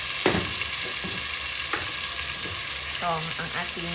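Kangkong sautés for adobong kangkong as yakitori sauce goes into the hot pan, making a continuous close sizzle with short bursts of spattering and a few thin squeaky tones toward the end.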